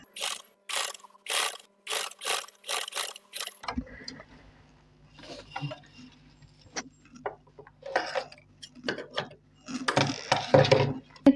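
Sewing machine stitching a designer patti onto a kameez, heard as a rapid train of mechanical bursts at the start, then sparse handling clicks and rustles with a low hum, and a short louder run of stitching near the end.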